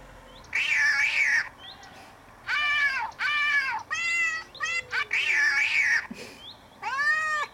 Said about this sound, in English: We're gonna scare the cats.